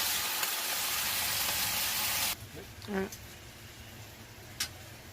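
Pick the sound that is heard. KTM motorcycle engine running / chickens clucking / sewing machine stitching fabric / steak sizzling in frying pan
steak sizzling in frying pan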